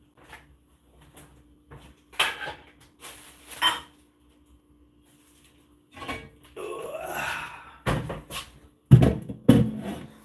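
Dishes, pots and cutlery being hand-washed with hot water at a sink, giving intermittent clatters and clinks of crockery and utensils, some sharp knocks and a brief scraping rush, close and moderately loud with quiet gaps between.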